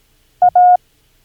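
Morse code letter A sent as a steady electronic beep: a short dot tone followed by a longer dash tone, clean and close, with no other sound.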